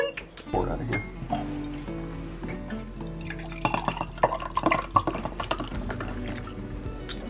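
Homemade kombucha pours and drips from a bottle, a close liquid trickle running through most of the stretch beneath lively talk and music.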